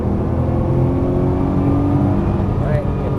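A Nissan GT-R accelerates on a race track, its engine a steady, loud drone heard from inside the cabin, close and continuous throughout.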